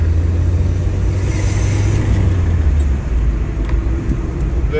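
An old car's engine rumbles loud and close as it accelerates to overtake on a road between Setif and Bejaïa in Algeria, a steady low drone with no pause.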